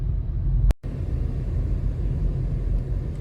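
Steady low rumble of a car cruising on a highway, heard from inside the cabin as continuous road and engine drone, briefly interrupted by a sharp click and dropout before the noise resumes unchanged.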